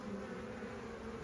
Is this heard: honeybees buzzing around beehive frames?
yes